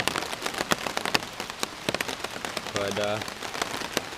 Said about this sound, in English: it's kind of soothing just sitting here listening to the rain